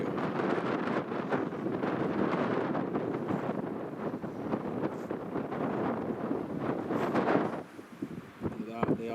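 Extremely strong wind from Storm Otto at Newcastle International Airport roars and buffets the microphone in continuous loud gusts. Someone talks under it near the end.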